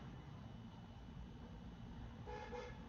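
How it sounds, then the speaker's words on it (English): Car horns honking outside, a faint, brief toot rising late against a steady low traffic rumble, heard alone without voices. "What are y'all honking at?"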